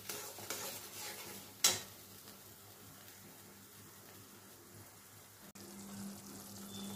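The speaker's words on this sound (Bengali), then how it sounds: "দিয়ে গ্যাসের ফ্লেমটা সিমে রেখে খুব ভালো করে এটাকে কষিয়ে নেব।" Spice paste with salt and turmeric sizzling gently over a low gas flame for paneer kofta curry, a soft steady fry with an occasional utensil clink and scrape, quiet and close, no talk.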